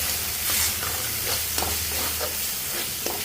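Turmeric, cumin powder and sugar sizzling in hot oil in a pan while being stirred, a steady close frying hiss with soft scraping strokes of the spoon and no talking.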